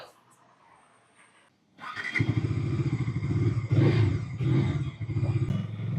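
A Bajaj Dominar 250 touring motorcycle with a 248 cc engine starts after a quiet moment, then idles and revs loudly and close by in repeated throttle blips, while a person talks over it.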